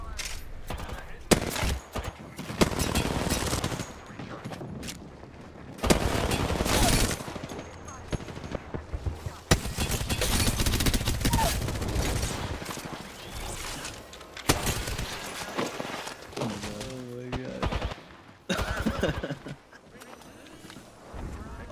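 Gunfire in the battle-royale game Apex Legends during a fight in Caustic's town takeover: repeated rapid bursts and single shots, loud and close, with people talking over the combat.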